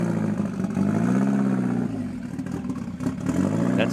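A Ford Sierra Cosworth rally car engine drones loudly and close, its pitch rising and falling as it revs, with a steady mechanical rumble throughout.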